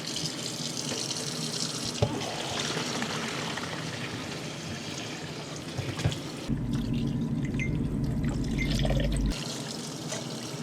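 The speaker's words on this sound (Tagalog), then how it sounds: "Hugasan natin tong karne." Running tap water pours over a large piece of pork being washed in a kitchen sink, a steady splashing stream that grows louder and heavier midway, then settles again.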